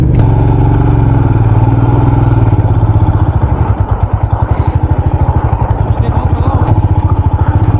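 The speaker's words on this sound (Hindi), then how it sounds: "यहाँ पर बहुत ध्यान से बाइक निकालनी है, क्योंकि यहाँ पर इश्यूज हो सकते हैं।" A Royal Enfield Himalayan motorcycle rides slowly and carefully over black ice on a snowy road at Chopta, Uttarakhand, its steady engine thump loud and close under someone talking.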